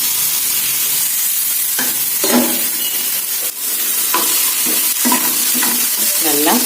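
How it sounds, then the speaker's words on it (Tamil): Chopped ridge gourd tipped into a pan of sizzling onions and curry leaves, a steady loud frying hiss broken by repeated scraping stirs of a spatula, close up with no talking. "இப்போ நறுக்கி வச்ச பீர்க்கங்காயை அதில் போட்டுடலாம்."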